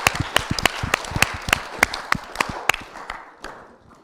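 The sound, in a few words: audience applauding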